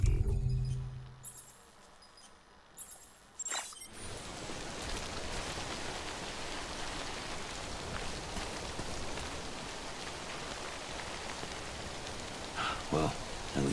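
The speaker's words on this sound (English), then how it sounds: "Wait out the rain." After a few quiet moments with faint clicks, steady rain starts and hisses continuously in the video game Death Stranding, with occasional small drips and clinks.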